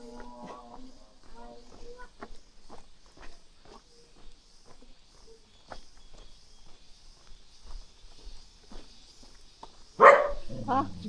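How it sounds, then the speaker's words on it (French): Three tied-up dogs bark on a walking route in Indonesia. Distant yaps are scattered under footsteps and a few spoken words, and one loud close bark burst comes near the end. "3 chiens attachés"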